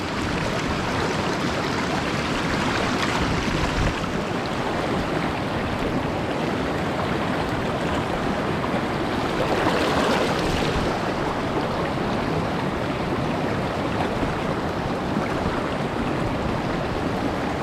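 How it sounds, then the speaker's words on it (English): A crystal-clear mountain river in Victoria's High Country, Australia, flowing steadily: a continuous broad rush of water, close and unbroken, with a slight swell midway. "Man, this river's awesome."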